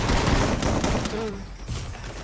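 Gunfire in the video game Free Fire crackles in a dense, loud burst of rapid shots that thins out toward the end.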